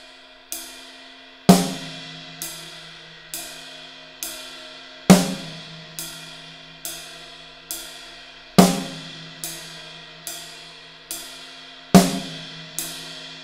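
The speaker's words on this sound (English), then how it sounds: "we're going to be playing quarter notes on our ride cymbal" Drum kit groove played in a steady pulse: ride cymbal struck on every quarter note, four to a bar, with a snare hit on beat 3 of each bar, about four bars in all, ringing cymbal wash between hits and no talking.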